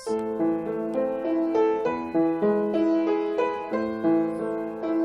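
A solo piano plays the first opening phrase of Für Elise, clear single notes stepping up and down at a moderate, even pace with sustained tones ringing beneath.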